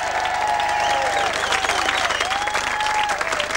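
A studio audience at a 1987 Perth telethon claps in sustained, steady applause, a thick crowd sound with a faint tonal hum running beneath it.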